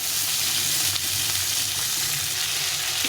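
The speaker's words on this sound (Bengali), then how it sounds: "পেঁয়াজ আলুটাকে একটু ভেজে নেবো" Onion and potato fry in hot oil in a pan, giving a loud, continuous, close sizzle that holds steady throughout with faint stirring underneath; no voices.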